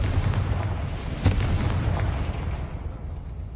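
A Confringo blasting spell explodes in the video game Hogwarts Legacy, a deep, rumbling boom that swells sharply near one second and then rolls off into a fading low roar.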